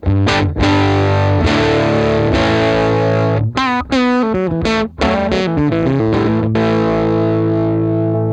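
Overdriven electric guitar chords through a driven 1955 tweed amp plugin ring out loud and gritty, broken by a quick run of choppy picked notes before settling back into sustained strums.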